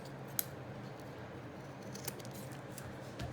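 Scissors trimming a small notch off a bee-themed paper craft tag, with a few quiet, close snips scattered over a soft background hiss.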